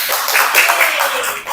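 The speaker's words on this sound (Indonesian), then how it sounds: "Tepuk tangan untuk kita semua ya." Brief burst of applause from a class in a classroom lesson, many hands clapping quickly together in a dense, fairly loud patter lasting under two seconds.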